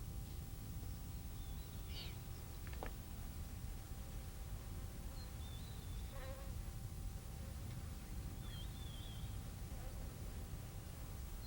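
Flies buzzing around a male lion resting in the shade on the hot savanna, thin faint whines drifting in and out over a steady hiss of background noise.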